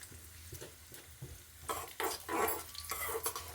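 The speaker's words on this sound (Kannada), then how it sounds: "ಸ್ವಲ್ಪ ಫ್ರೈ ಮಾಡ್ಕೋಬೇಕು ಇದನ್ನು." Cashews and raisins frying in a pan, a soft sizzle with stirring scrapes that grows louder partway through, close and steady with no talking.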